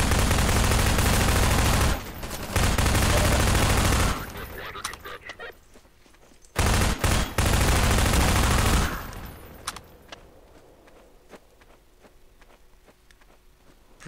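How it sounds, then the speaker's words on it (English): Bursts of video-game gunfire from enemies in Half-Life 2 during a vehicle section, loud dense volleys in two long stretches separated by quieter gaps with scattered shots and game sounds. "And we're getting shot."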